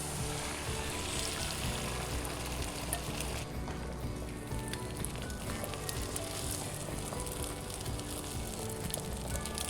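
Scrambled eggs sizzle and crackle in a frying pan while chicken fried rice is being made, a dense, steady hiss that holds at a constant level from start to finish.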